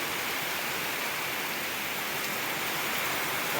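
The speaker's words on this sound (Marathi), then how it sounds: "जोरात पाऊस होतो" Heavy monsoon rain pouring down steadily during the Shravan month in a farming area near Deoli, a dense, even roar that stays loud and unbroken throughout with no talk.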